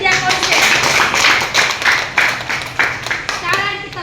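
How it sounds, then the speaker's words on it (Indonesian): A class of tenth-grade students in a Catholic religion lesson applauds a classmate with loud, close hand clapping in uneven bursts, while voices talk and call out over it. "Tepuk tangan untuk dia, berarti dia konsen."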